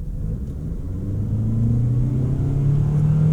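A car engine revs up steadily under full acceleration through a CVT toward 5,000-5,500 rpm, a loud rising drone that climbs in pitch and holds, close and continuous.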